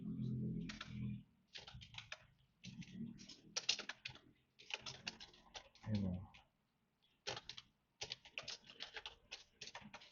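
Rapid clattering keystrokes on a computer keyboard come in bursts with short pauses, close and fairly loud, tapping out code while no one talks.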